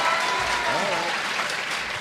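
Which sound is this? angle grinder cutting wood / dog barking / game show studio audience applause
game show studio audience applause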